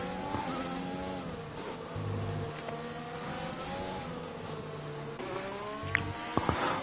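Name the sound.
racing car engines in a racing video game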